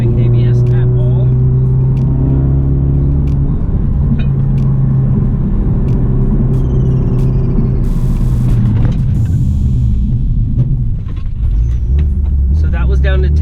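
A Ford Focus RS with carbon Geomet brakes braking hard from 60 mph, deep road and engine rumble with tyre and brake noise inside the cabin, shifting tone as the car slows.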